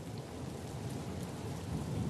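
Rain falls steadily over the desert, a dense, even wash of noise with a low rumbling undertone like distant thunder and no voices.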